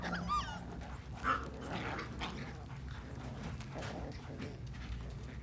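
Puppies in a scene from the TV drama Chernobyl make faint, quiet barks and yips against a busy background of low rumble and clatter.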